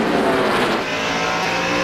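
A pack of NASCAR stock cars roars past at the 2002 Pontiac Excitement 400, a loud, sustained engine drone with a rising and fading pass-by swell.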